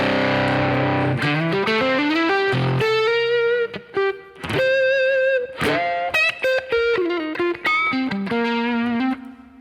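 Electric guitar played through a Keeley Muse Driver overdrive pedal, loud distorted notes and chords ringing out with sustained bloom, a few short pauses between phrases, no voice.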